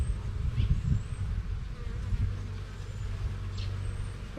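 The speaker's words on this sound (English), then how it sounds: "bunch of bees on here." Honey bees buzz on a hive frame during colony splitting, a dense, close swarm hum with individual bees droning past now and then.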